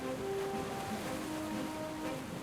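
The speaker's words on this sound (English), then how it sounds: "With the sound of the waves in the background" Ocean waves surging beneath background music during a tabletop Dungeons & Dragons session, a steady soft wash of surf with faint sustained tones over it, low and distant, no talk.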